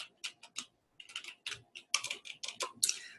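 Quick bursts of keystrokes on a computer keyboard, close and crisp, arriving in irregular clusters with short pauses in a quiet room.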